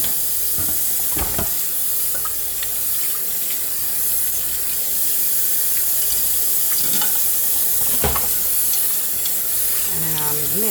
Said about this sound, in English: Make sure it all gets rinsed.